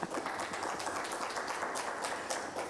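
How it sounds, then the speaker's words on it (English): An audience claps through a morning awareness-month gathering, producing a faint, continuous wash of many hands with scattered sharper claps, steady throughout and without speech on top. "I think I want to hear more claps."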